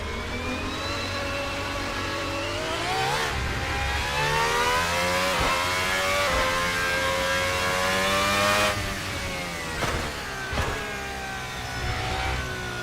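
Race car V12 engine revving in a racing video game, behind a Ferrari, a sustained high harmonic whine rising and falling through gear changes, loud and continuous with brief dips near the end.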